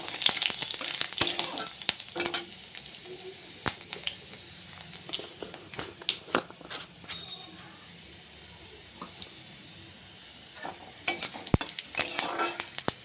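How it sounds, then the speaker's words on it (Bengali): A spoon stirs garlic cloves, dry red chillies and a pinch of nigella seeds frying in a pan, with scattered sharp scraping clicks over a soft, steady sizzle and no speech. "একটু নেড়ে দেবো"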